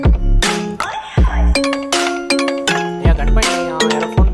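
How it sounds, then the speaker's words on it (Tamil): A phone ringing in the video game GTA 5, loud bright chiming tones repeating in a steady melodic ring pattern for several seconds, with no talking over it. "யாரோ ஃபோன் பண்ணாங்க."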